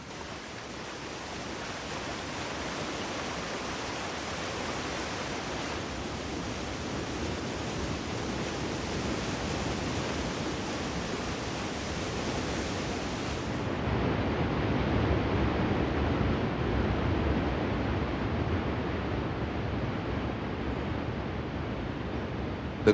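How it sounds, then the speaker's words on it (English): Yosemite Falls, a free-leaping waterfall fed by melted snow that drops 2,425 feet over a valley cliff, roars as a steady, broadband rushing wash that swells slightly and thickens halfway through. "The grandest of the valley's leaping cascades is Yosemite Falls."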